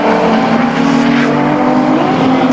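VW Cup race cars lap Snetterton circuit in 2001, engines howling loudly and continuously at high revs with a sustained droning tone, close and dominant throughout.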